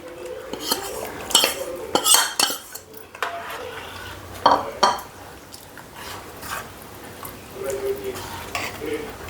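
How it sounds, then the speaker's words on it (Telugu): Ragi mixture is poured into boiling water in a pot and stirred, with bursts of metal spoon clatter and scraping against the vessel, uneven and close, separated by quieter bubbling stretches. "ఇప్పుడు కలిపి పెట్టుకున్నది ఇలా పోయాలి"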